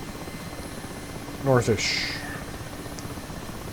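An Mi-8 helicopter in the DCS flight simulator drones steadily with engine and rotor noise throughout, while someone briefly speaks over it.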